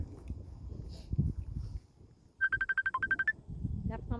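An incoming call sets a phone ringtone off: a quick run of bright, evenly spaced beeps with one lower note, lasting about a second, between stretches of people talking in an interview.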